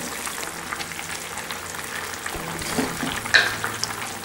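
Tomatoes simmering gently in a pan for a tomato and beans curry, giving a soft, steady bubbling and faint sizzle close by, with no talk.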